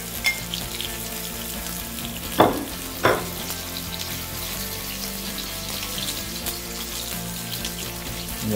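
Onions dropped into hot oil for a spiced vegetable biryani, frying with a continuous busy sizzle and stirring scrapes, two sharper clatters near the start, close and fairly loud with no talk.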